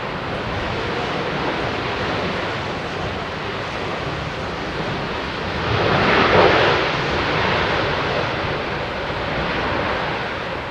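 At busy London Heathrow Airport, a jet aircraft gives a steady, broad engine roar that swells briefly mid-way and then settles, heard from a distance as a continuous rumble with no voices.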